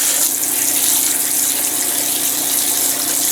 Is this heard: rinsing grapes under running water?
yes